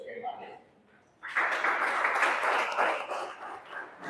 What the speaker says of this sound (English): I want you to clap for yourself so you can manage.